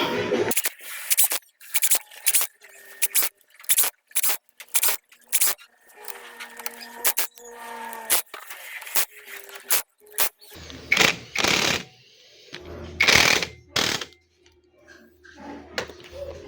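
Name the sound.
screws being fastened on Kawasaki Fury 125 engine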